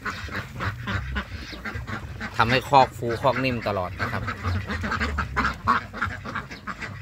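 Yi-Liang ducks quack nearby in loose, scattered bursts while someone talks in Thai over them throughout.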